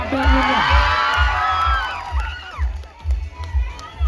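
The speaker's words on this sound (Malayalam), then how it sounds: "എല്ലാവരും ഒരു നല്ല കൈയടി" A loud crowd cheers and whoops, voices rising and falling over steady rhythmic thumping, like clapping in time.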